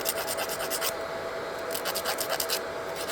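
A 180 grit nail file rubs back and forth across acrylic nails in quick, close, even rasping strokes, with a brief pause midway.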